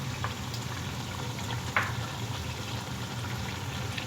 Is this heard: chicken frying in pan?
yes